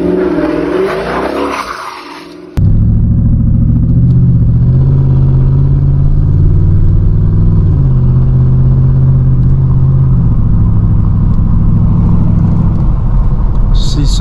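A 2nd-generation Dodge Charger RT AWD driven at night on snowy winter roads, with a loud, steady engine drone and road noise heard from inside the car after a brief quieter, muffled opening.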